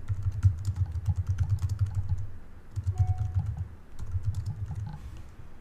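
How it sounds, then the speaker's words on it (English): Keys tapped on a computer keyboard while a location is entered into a mileage calculator, a steady close run of clicks in three bursts with brief pauses between them. "I'm going to type in"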